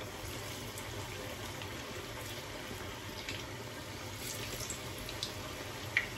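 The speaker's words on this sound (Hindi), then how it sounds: "अब इसको स्लो फ्लेम पे हम फ्राई करेंगे।" Potato onion pakoda frying in oil on a slow flame, a steady soft bubbling sizzle with faint crackles and one small pop near the end, no voices.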